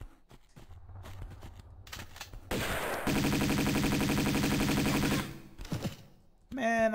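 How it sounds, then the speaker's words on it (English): Uzi fire in the Tomb Raider II Remaster, a sustained rapid burst of shots lasting a couple of seconds amid game sounds, with brief clicks and movement before and after. "Uzi bullets were coming for you"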